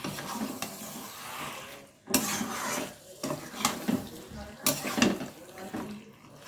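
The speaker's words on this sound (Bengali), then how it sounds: "এখন আমার মশলার সাথে মাংসটা ভালোভাবে কষিয়ে নেব" Mutton being stir-fried with spices in a pan, a spoon scraping and clattering against the metal in repeated bursts, with brief quiet gaps between strokes.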